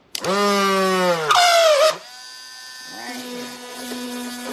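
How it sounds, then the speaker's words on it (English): A power drill boring a hole in wood for a backyard playground toy, with two loud whining motor bursts that rise and then die away, followed by a quieter steady hum. "I'm going to drill a hole right here"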